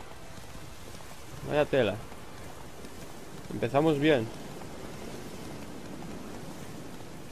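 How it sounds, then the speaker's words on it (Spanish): Steady rain and wind in the Witcher 3 video game wash evenly through the whole stretch as a constant hiss, while someone speaks in two short bursts over it. "Mira, ya hay lluvia, viento, hay un tiempo de perros."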